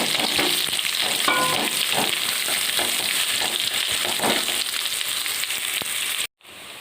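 Onion, green chillies and curry leaves sauté in a hot pan for pumpkin kootu, giving a steady, loud close sizzle with occasional stirring scrapes that runs almost unbroken before cutting off abruptly near the end.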